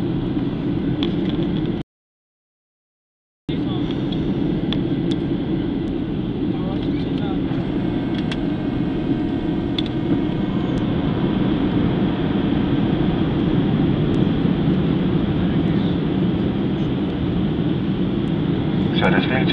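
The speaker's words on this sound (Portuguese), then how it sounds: "Senhoras e senhores, dentro de instantes estaremos pousando no aeroporto internacional Antônio Carlos Jobim, no Rio." Airplane cabin on the landing approach to Rio's international airport, with a steady, loud engine and air roar throughout and a brief dropout near the start.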